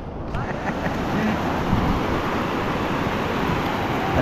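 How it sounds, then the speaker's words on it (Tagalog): Big ocean waves wash onto Casapsapan beach in Aurora, a steady, loud broadband roar of surf mixed with wind noise across the whole stretch, with faint voices underneath. "Ang laki ng alon."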